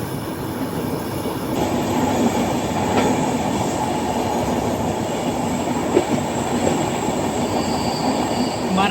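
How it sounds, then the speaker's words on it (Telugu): Tirumala Express locomotive and carriages rolling on the line between Visakhapatnam and Duvvada, a steady close rumble of wheels on track lasting throughout, with a faint squeal and occasional small clatters over the constant roar. "మన లోకో అదిగోండి."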